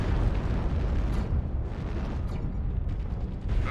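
In MechWarrior Online, a destroyed target erupts into a loud, rumbling explosion with a sustained deep roar and crackling bursts, heard alone and close.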